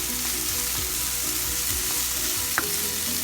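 Chopped onions, chili and garlic sizzle steadily in a hot pan while being stirred for a methi keerai stir-fry, a continuous close frying hiss with occasional soft scraping and clinks.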